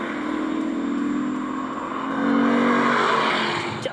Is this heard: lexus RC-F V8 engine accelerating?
yes